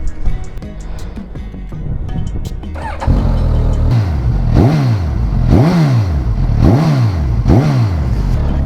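A Suzuki GSX-S1000 GT motorcycle with a short stubby exhaust starts up, settles into a loud close idle, then gets five evenly spaced throttle blips that rise and fall sharply.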